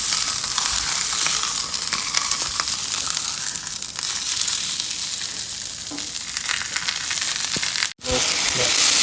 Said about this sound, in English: So we're going to go ahead and sear that fat off.